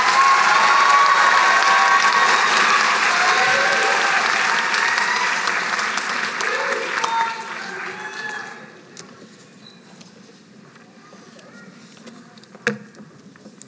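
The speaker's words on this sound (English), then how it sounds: "big round of applause for the graduates" A graduation ceremony audience at Stenberg College claps and cheers loudly and steadily for the graduates, dense applause filling the first half before thinning and fading to scattered claps and quiet room tone.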